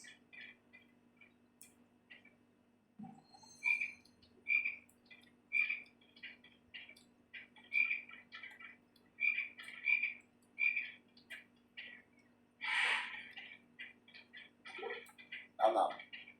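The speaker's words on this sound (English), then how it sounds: "You have to knock the frog out before you can catch it" Chocolate frog in a Harry Potter video game croaking in a steady series of short, loud calls, roughly one each second, with a few louder squawks near the end and faint game sounds beneath.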